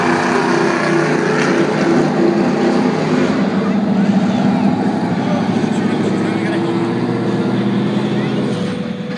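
A NASCAR race car accelerating down the straightaway, a loud continuous engine roar that holds steady and eases slightly near the end, with no clear talk over it.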